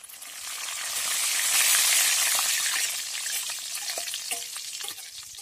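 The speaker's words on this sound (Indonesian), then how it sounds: "Oke, kita goreng dulu kacangnya." Peanuts fry in oil in a pan with a bright, loud sizzle that swells and then settles, broken by scattered crackles and pops and the scrape of stirring.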